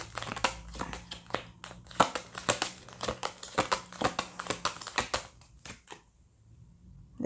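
Tarot cards are drawn and handled from a deck, giving a close, crisp run of rapid crinkling, flicking and shuffling clicks that stops abruptly near the end, with no talk.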